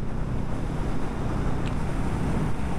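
A Royal Enfield Meteor 350 motorcycle cruising at around 90 km/h, heard as a steady, loud rush of wind buffeting the microphone over a low engine drone, continuous throughout with no talking.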